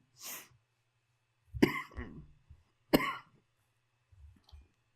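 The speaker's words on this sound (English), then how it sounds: "Excuse my coughing." Several separate coughs from one person, a short one followed after a pause by two sharper, heavier bursts spaced about a second apart, close to the microphone, then faint throat noises.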